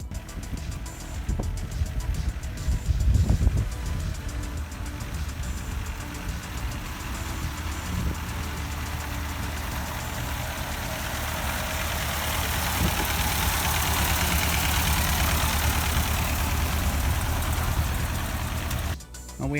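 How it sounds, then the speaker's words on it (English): A Ford 8N tractor's engine chugs steadily as it drives off down the road on a test run, a low knocking idle-like rumble heard from outdoors, fairly even throughout with no voices. "there it goes down the road there. Taking it for a little test run there"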